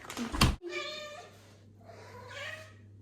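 A cat meows twice up close indoors, two drawn-out, clear meows following a brief sharp knock at the start, with no talking.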